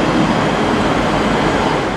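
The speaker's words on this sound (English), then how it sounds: "And there is my train." A train rolls into a station in Liverpool, its steady broadband rumble and rail noise loud and close, continuous throughout with no talking.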